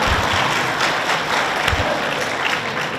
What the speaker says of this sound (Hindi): ताली देखना कैसी ताली बजा रहे थे।